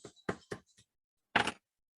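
Small metal pin knocked into a Longines Hydro Conquest watch bracelet: three quick, sharp taps close together, a pause, then one louder, longer tap, all close up with no talking.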